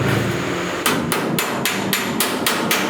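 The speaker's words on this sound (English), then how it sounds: "That's mostly hammer-on dolly to kind of get work the little pock marks" A hammer strikes metal backed by a dolly while working small pock marks out of a car body dent, with eight or so light, evenly spaced, ringing taps close up.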